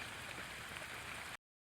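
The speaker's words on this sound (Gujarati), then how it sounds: "ચાલુ થયો વરસાદ" Steady rain falls on large leaves and surrounding surfaces, a dense, even hiss that continues unbroken and then cuts off abruptly.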